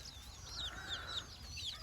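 Soft chirps and clucks from a mother hen and her small chicks feeding in the open, several short calls scattered over a quiet background, fairly faint.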